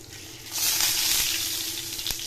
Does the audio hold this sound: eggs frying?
yes